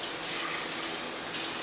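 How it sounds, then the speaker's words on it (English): A tap runs steadily into a sink while a fish bowl is rinsed, a close, even hiss and splash of water that swells slightly near the end. "you come over here and rinse it out"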